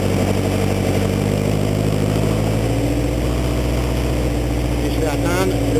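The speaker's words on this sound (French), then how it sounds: "je vais monter le régime moteur." A Suzuki GSX 1400 motorcycle engine runs loud and close with a steady low drone that rises in pitch as the revs climb.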